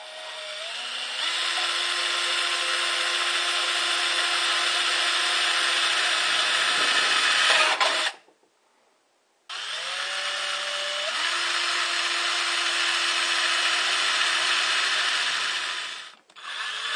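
Power tool cutting a hole in a thin steel can for a homemade fan-forced rocket stove, a loud sustained whine in two long passes separated by a short pause, close up with no talk.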